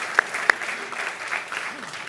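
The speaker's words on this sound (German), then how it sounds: "ein großer Applaus" Audience applause at a company user conference, a short spell of moderate clapping from a crowd indoors with a couple of sharper claps, mixed with a voice.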